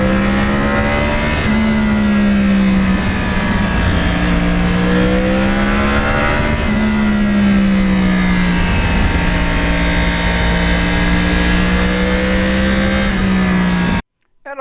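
A Yamaha R1 crossplane motorcycle engine is recorded while riding on cold, wet roads. Its loud, close drone rises and falls through revs in smooth swells, with no talk, before cutting off abruptly near the end.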